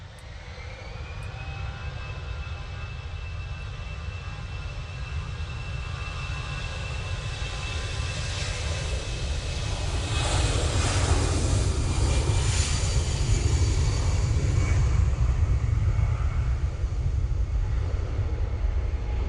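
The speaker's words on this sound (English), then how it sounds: "After Paris Charles de Gaulle, we'll be going with this A320." An Airbus A320 jet at Manchester Airport bound for Paris Charles de Gaulle builds from a whining engine tone into a loud, rising roar as it passes closer, sustained and unaccompanied by talking.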